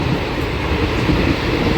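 The Palnadu Express, a superfast train, runs at speed along the track with a steady loud rumble and rattle from inside the coach.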